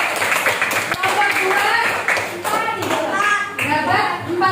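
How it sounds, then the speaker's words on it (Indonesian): Fourth-grade children in a classroom clap for a group of classmates, a scattered patter of small hands heard under lively kid voices and chatter throughout. "tepuk tangan buat kelompok 2"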